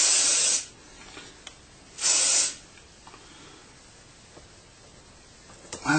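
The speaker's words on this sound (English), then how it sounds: "Just give it a spray on." An aerosol spray can mists varnish over model 15mm hedgerows in two distinct hissing bursts, the first about half a second long and the second around two seconds in, with quiet pauses and faint handling noises between them.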